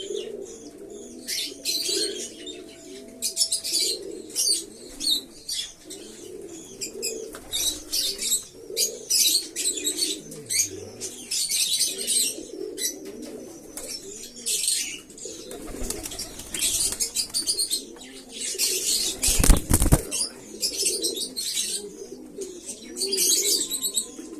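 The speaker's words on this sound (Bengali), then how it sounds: "এই একটা সব আমার ম্যাদ্রাজ ওড়াই পায়রা ছিল" Madras flying pigeons coo in a repeated low throaty rhythm while wings flap and flutter in bursts, close and busy, with several birds calling over each other and one loud rustling flurry near the end.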